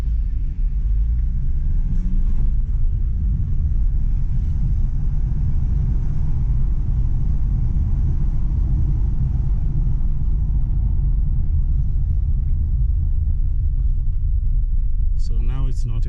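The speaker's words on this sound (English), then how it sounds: "You can hear the fans have kicked in hard." A Mazda CX-5 with a cooling problem has its radiator fans roaring hard, a loud, steady low rumble and whoosh that holds for the whole stretch, with a brief faint whine near the end.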